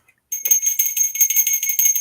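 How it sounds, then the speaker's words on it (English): A hand bell rung to open a class, bright continuous jingling clangs for about two seconds, close and fairly loud, with no talk over it. "I brought the bell. Class is in."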